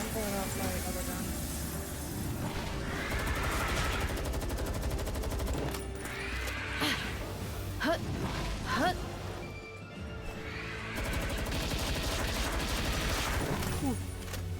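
Gunfire from a gun in the video game Palworld rattles in rapid bursts and scattered single shots, with crashing impacts mixed in beneath a loud game soundtrack.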